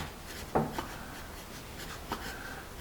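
A Pen+Gear sparkle pencil with a freshly sharpened point writes on paper, giving a few soft, close scratches and taps with quiet gaps between strokes.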